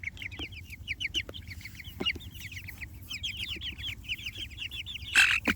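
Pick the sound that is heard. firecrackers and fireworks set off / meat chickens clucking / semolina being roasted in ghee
meat chickens clucking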